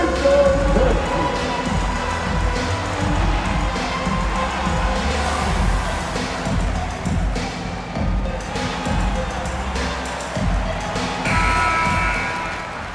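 Crowd noise and cheering from an NBA 2K24 basketball game, a steady loud roar of applause running throughout, with ball bounces and court thumps mixed into the din.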